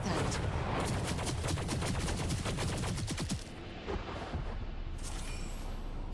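A video game's firing squad volley: a fast, dense string of gunshots rattles loudly for about three seconds, then tapers into scattered echoing cracks and low rumbling trailing off, with no voices.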